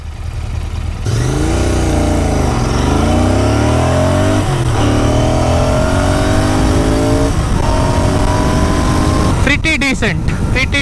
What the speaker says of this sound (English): We are trying the 0 to 100 in a Continental GT.